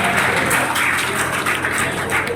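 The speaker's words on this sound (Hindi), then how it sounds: "जोरदार तालियों के साथ।" Audience applause at a community society meeting in Sonipat, a continuous, even roar of many hands clapping throughout.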